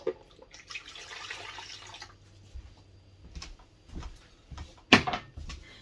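Warm water pours steadily into a bowl for a couple of seconds for bread dough, a soft splashing rush, followed by quiet clinks and a sharper knock of a bowl or cup.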